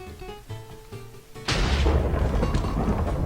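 A thrown compass bomb in a video game detonates with a sudden, violent blast and flash, a single loud boom that rumbles on for a couple of seconds after a quieter lead-in.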